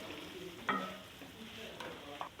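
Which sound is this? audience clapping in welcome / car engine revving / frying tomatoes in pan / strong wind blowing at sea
frying tomatoes in pan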